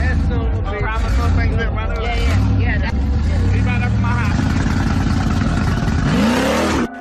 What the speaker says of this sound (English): he didn't check his mirrors before flying into reverse